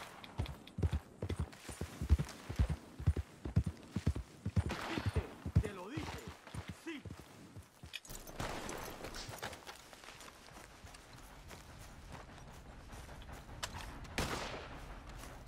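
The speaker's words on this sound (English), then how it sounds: "Gunshots, eh?" Gunfire in the western video game Red Dead Redemption 2, with a horse's rhythmic clip-clopping hoofbeats at first, then scattered bursts of shots and rougher noise, fairly faint throughout.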